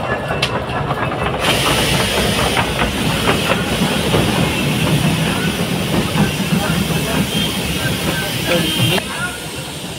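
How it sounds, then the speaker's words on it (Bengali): A toy train at an amusement park rolls in slowly, giving a steady hiss and low rumble with faint clacking, loud and continuous before easing off near the end. "টয় ট্রেন আসছে"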